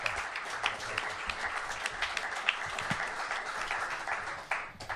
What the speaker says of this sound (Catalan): un petit aplaudiment pel Salvador.